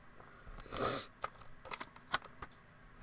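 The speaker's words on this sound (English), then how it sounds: "Sorry for sniffling." A person sniffles a few times during a papercraft class, with short nasal sniffs spread across a few seconds, one stronger breathy sniff near the start and fainter ones after, fairly close and without speech.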